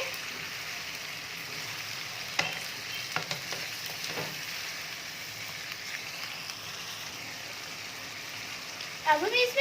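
Chopped tomatoes go into a chicken shinwari karahi made with desi chicken and get stirred, giving a soft, steady sizzle with occasional spoon taps against the pan and a brief louder scrape at the end.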